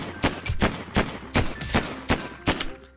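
Rhythmic bursts of gunfire in the Mini World video game while shooting zombies, about eight sharp evenly spaced shots ringing out loud and close, one after another.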